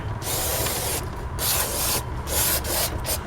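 Brake cleaner sprays in repeated long hissing bursts onto the rear brake drum of a 1989 Ford Ranger XLT, loud and close, separated by short gaps.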